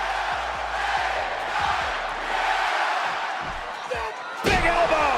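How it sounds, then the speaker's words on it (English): A large wrestling arena crowd roars and chants throughout, a dense sustained wall of voices with rhythmic thumps early on and a sharp slam near the end. "The crowd loved reciting the yeah catchphrase so much"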